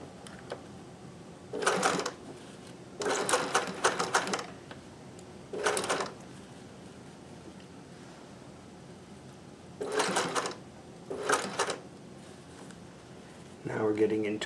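A sewing machine stitches fabric for a gift project in short runs of rapid mechanical chattering, six bursts of one to two seconds each. Quiet pauses separate the runs, and the machine sounds close and clear.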